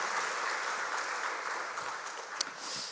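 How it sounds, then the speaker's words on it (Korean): Sustained applause from a church congregation during a Wednesday prayer service, steady and dense throughout with one brief sharper clap near the end. "우리 큰 박수"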